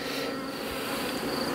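Honeybees buzz in a dense, steady hum at close range while a beehive is opened and checked for laying, a short continuous drone with no talk.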